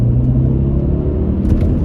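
A 2003 Audi RS6 sedan with a 450 hp twin-turbo V8 accelerates hard, a loud, close, deep engine rumble building steadily over a couple of seconds, with no voices.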